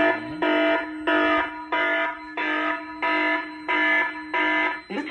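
A fire extinguishing test panel sounds an alarm of repeated evenly pulsed electronic buzzing tones, about nine loud steady bursts in quick rhythm, heard close with no talking.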